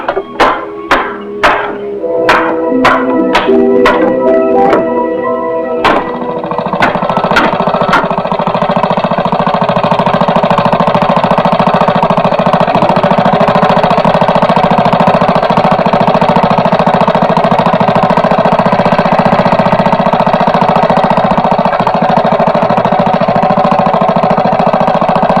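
A series of sharp metallic knocks opens, then an engine starts and runs with a steady, loud rumbling drone that holds unchanged for about twenty seconds.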